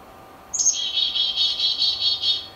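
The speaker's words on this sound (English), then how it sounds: "you hear this American bird, this chickadee, singing" A chickadee singing in the woods, a single high whistled phrase that slides down and then holds as a steady, slightly wavering tone, clear and close against quiet background hiss.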